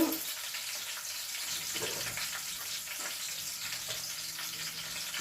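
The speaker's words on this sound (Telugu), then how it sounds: "మినపప్పు అవి కొంచెం ఏగనివ్వాలండి మంచిగా తాలింపులో ఏగనివ్వండి" Steady crackling sizzle of urad dal frying in hot oil for tempering, a dense continuous hiss with faint scattered pops throughout.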